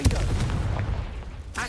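A Confringo blasting spell goes off in the Hogwarts Legacy video game, a loud, booming burst that rumbles and fades over about a second, with another sharp hit at the end.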